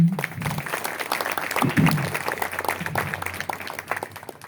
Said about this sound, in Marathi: मनीषाताईंच्या या अतुलनीय कारकिर्दीसाठी जोरदार टाळ्या.